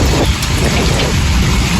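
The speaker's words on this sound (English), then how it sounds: "this appears to be our first bona fide thunderstorm of the year" Heavy thunderstorm rain pours down as a loud, dense hiss of drops on surfaces, with low thunder rumbling underneath throughout, no voices.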